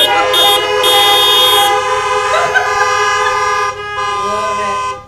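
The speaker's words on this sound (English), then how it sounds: "honk your horns a little bit and let the internet know you're here" Car horns honk together in a church parking lot, several sustained, overlapping toots of different pitches that blare loudly and steadily, with one horn dropping out near the end.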